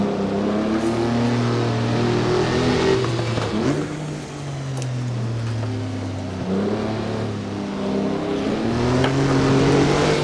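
Historic race cars in the Assetto Corsa racing game, on the Pau Grand Prix circuit, rev loudly and continuously, their engine pitch sweeping up and down through gear changes as several cars run close together.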